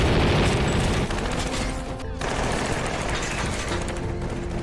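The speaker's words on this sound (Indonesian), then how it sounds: "terjadilah kejar-kejaran dan tembak-tembakan antara polisi dan" Loud, dense gunfire crackles through a police chase shootout with bank robbers, a near-continuous barrage with a brief lull partway through.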